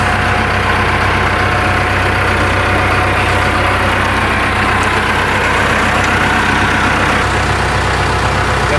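A tractor engine idles steadily nearby, a loud continuous low rumble with an even, unchanging throb and no talk over it.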